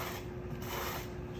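Dry clay scraped across a table with a small scraping tool gives a steady, raspy, continuous rubbing noise, fairly quiet and close, with no talk.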